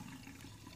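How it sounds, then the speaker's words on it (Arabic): Drinking water runs steadily from a tap in the village of Al-Deir, Qalyubia, a faint continuous rush of liquid lasting under a second, with no voices. "ادي المية اهي، اهي نازلة من الحنفية اهي."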